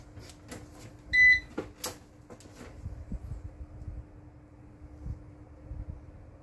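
A split air conditioner in an office is switched on: a short, bright electronic beep, then a faint, steady low hum with light mechanical clicks and rustles nearby.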